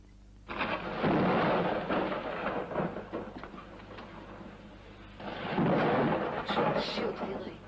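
Thunder rumbles in two long rolling swells over a steady wash of rain, fairly faint and distant.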